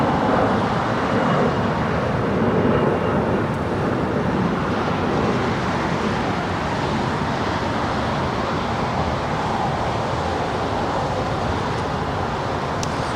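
Jet aircraft noise at Los Angeles International Airport, a broad continuous roar that stays steady and loud for the whole stretch with no talking.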